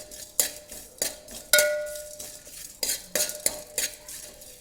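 Cumin and other whole spices dry-roasting in a pan for vegetable pulao, with a spoon stirring and scraping the metal in repeated sharp strokes about once a second, close and fairly loud, with no voices.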